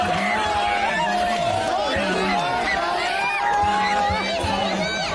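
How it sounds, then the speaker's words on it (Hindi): A crowd gathered at a grave, pelting it with slippers: a steady loud hubbub of many voices shouting and chattering, with scuffling and thuds mixed into the din. "यहाँ पर भीड़ हो गई है लोगों की और चप्पलें बरसाई जा रही हैं इस कब्र के ऊपर।"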